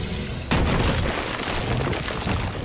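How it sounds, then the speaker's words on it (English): In the online game Ashes of Creation, a player character blows up with a sudden loud boom half a second in, followed by a rumbling, crackling decay. "You just exploded me."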